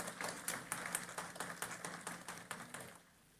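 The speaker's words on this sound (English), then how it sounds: "Let's give a huge round of applause to our moderator of the session." Audience applause for a session moderator at a national workshop on mine closure: a short burst of dense, rhythmic clapping that stops abruptly after about three seconds, leaving quiet room tone.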